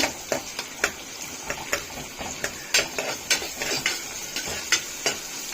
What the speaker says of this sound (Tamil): வெங்காயம் வதங்கிக்கிட்டு இருக்குது